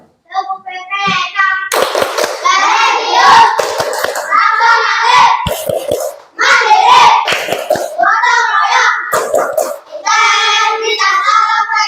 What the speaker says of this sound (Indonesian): Tepuk PPK dulu sebelumnya, ya, tepuk PPK dulu ya, biar sama-sama.